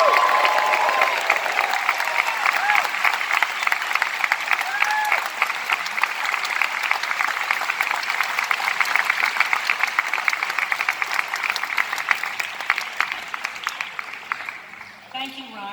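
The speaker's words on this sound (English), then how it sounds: "Give yourselves a round of applause." A graduating class at a graduation ceremony fills the hall with continuous loud applause, dense clapping mixed with a few cheers and scattered voices, tapering slightly near the end.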